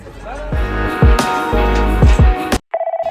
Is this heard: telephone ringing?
yes